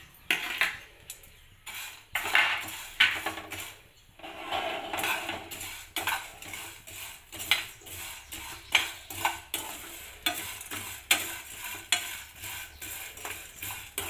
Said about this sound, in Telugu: ముందుగా స్టవ్ ఆన్ చేసుకొని ఒక పాన్ పెట్టి అందులో ముందుగా మనం క్రష్ చేసి పెట్టుకున్న మ్యాగీని ఒక 2 మినిట్స్ పాటు బాగా ఫ్రై చేయండి